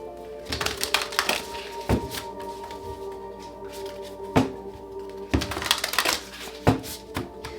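Tarot cards being shuffled by hand, with soft riffling bursts and sharp taps as the deck is knocked together, close up with a steady low hum behind.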